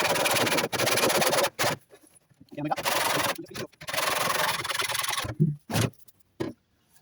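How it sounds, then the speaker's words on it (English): Hacksaw with a 32-teeth blade cutting a tin round downpipe in rapid rasping strokes, loud bursts broken by short pauses, with brief low voice sounds between strokes. "this is a 32-bit hacksaw blade. It's the best to use on tin."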